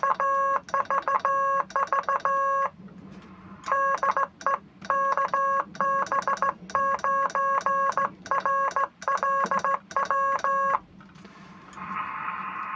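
Side tone from a ZachTek CWflea low-power three-band ham radio transmitter, picked up by a nearby receiver, sounds as a clean, steady run of Morse code beeps, short and long tones in bursts separated by brief pauses.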